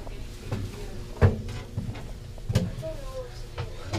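A metal door aboard the submarine Nautilus, a museum ship in Groton, opens or closes with several hollow knocks and clunks, while voices talk nearby.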